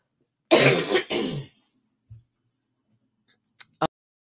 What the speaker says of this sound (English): I'm going to cough here.